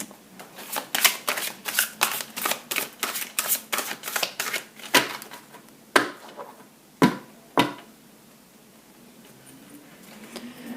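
A deck of tarot cards being shuffled and cut by hand, with a rapid run of crisp riffling snaps that slows into a few separate sharp slaps, close and alone.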